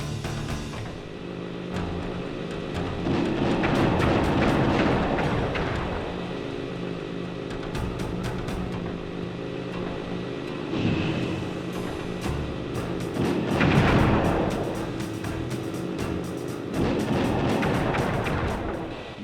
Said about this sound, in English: After you collect a ball and ammo, press the square button to fire its turret.